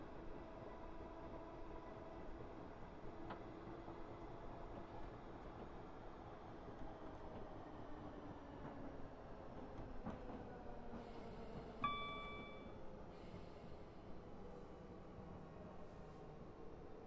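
A train coasting down a 1 in 127 gradient on a suburban line near Glasgow and Airdrie, heard from inside as a faint, steady rolling rumble with light rail clicks and a brief high tone near the end.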